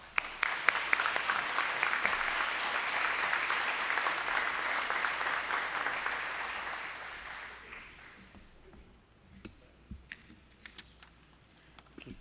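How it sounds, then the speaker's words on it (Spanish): Strong applause from a conference audience at a national security and justice meeting at a university, dense clapping that swells and holds, then fades out, leaving a few scattered claps. "Recibámoslo con un fuerte aplauso"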